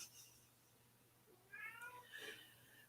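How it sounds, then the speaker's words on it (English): A house cat meows to be let back inside, two fairly faint, drawn-out meows in quick succession over a quiet room hum. "my cat trying to come in again"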